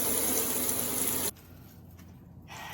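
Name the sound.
washing harvested lemongrass under running water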